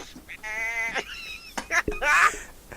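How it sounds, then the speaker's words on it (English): A sheep bleating sound effect, with a loud wavering bleat followed by a couple more shorter, strained bleats close up, clear and alone. "we heard our favorite sound, the sound of a sheep"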